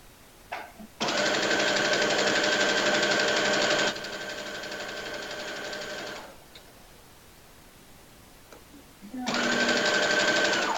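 A sewing machine stitches a seam on a sweater in two loud, steady runs, close up, the first about five seconds long and slowing partway, then silence before it starts up again at the end.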